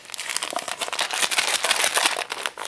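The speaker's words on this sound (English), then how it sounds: "I'll put this in a plastic bag for tomorrow" Crinkly plastic bag rustling and crumpling as chocolate chip walnut cookies are packed into it, a dense, continuous crackle close to the listener with no talking.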